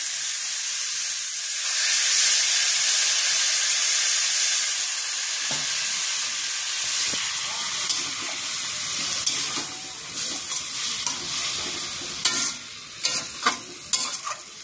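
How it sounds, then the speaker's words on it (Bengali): Spicy meat frying in a pan, with a burst of hissing sizzle as a little water is added, then steady frying and scattered scraping clicks from stirring, fairly close and with no talking. "এই একটুখানি জল দিতে হবে"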